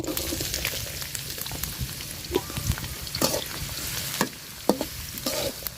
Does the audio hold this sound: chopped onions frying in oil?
yes